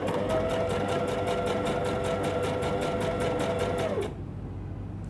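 A sewing machine stitches fabric for children's pajamas, a loud, close, steady whirring with fast rhythmic clatter that runs for about four seconds, then stops, leaving quiet room noise.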